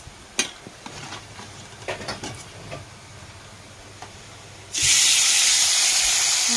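Fish drops into hot oil in a pan, setting off a sudden loud, steady sizzling hiss after a few light clinks and taps of utensils, close and continuous to the end.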